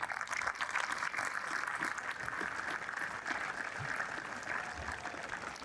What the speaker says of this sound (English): giving a round of applause to the teachers, the principals, and everybody in the community that helped you get to this point